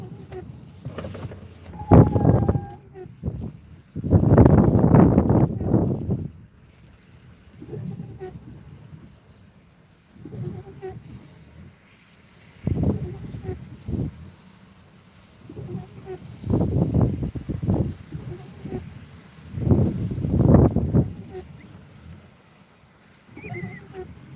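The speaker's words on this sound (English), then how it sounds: "Yeah, that wind's all over the place." Gusty wind during a storm in Florida buffets the microphone in loud, rumbling bursts that surge and drop away every few seconds, with quieter stretches of low outdoor noise between gusts.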